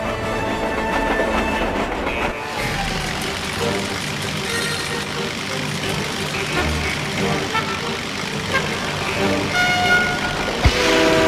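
Train in the Disney Planes video game, set in a barren desert locale, heard as steady game rail rumble and clatter with music layered over it, fairly loud throughout with a brief toot-like burst near the end.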